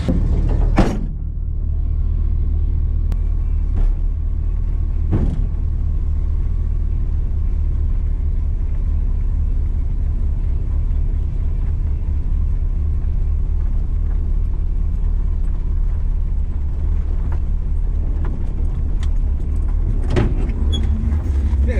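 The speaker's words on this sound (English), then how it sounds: "I kicked it down to low idle, and here's what she sounds like" Small-block Chevy 400 V8 in a truck with true dual exhaust, idling low with a steady, loud, deep rumble throughout, close by, with a few short clicks or clunks and no talk.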